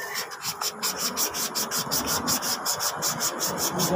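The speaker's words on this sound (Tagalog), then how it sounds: "kailangan lihain natin ito. Yan, yung pinong kailangan gamitin natin sa pagliliha. Dahil para matanggal natin yung mga kalawang." Fine sandpaper rubs rust off a brake part in rapid, rhythmic back-and-forth strokes, a close, loud scratchy rasp repeating steadily with no talk.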